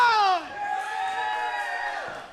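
Crowd at a wrestling event cheering and shouting, with high whooping voices that start loud, dip, then hold as a steady roar across the couple of seconds.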